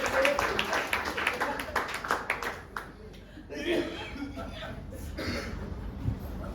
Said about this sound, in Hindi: क्यों ना तालियां?